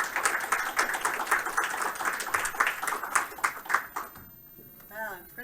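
Audience applause at a university game studio build review, dense rapid clapping under talk for about four seconds, then fading out as a voice speaks near the end.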